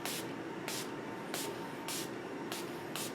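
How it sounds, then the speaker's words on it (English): Six short, bright bursts of a Milani Make It Last setting spray pump, evenly spaced about every half second, each a crisp hiss over a steady low background. "So let's go ahead and spray."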